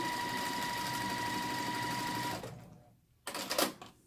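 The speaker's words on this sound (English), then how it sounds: "I'm sewing a 1/4 inch seam" A sewing machine runs steadily while stitching a quarter-inch seam through pieced quilt blocks, a close, continuous motor whir that stops after about two and a half seconds, followed by a brief rustle of fabric handling.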